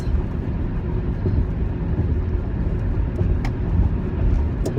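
A truck engine runs steadily at close range, a constant low rumble with no talking, as though heard from inside the cab.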